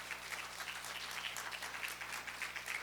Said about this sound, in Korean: 우리 목사님 나오실 때 큰 박수로 환영해 주시면 감사하겠습니다